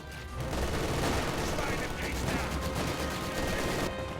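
A heavy machine gun in Company of Heroes 2 fires in a dense, continuous rattle of battle noise, loud and sustained for several seconds before easing off.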